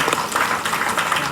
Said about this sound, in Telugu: అందరూ ఒకసారి చప్పట్లు కొట్టాలమ్మా